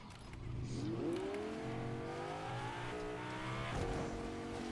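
An engine revs steadily and climbs in pitch as a car drives in a video game, with a brief tire squeal, loud and close, and no talk over it.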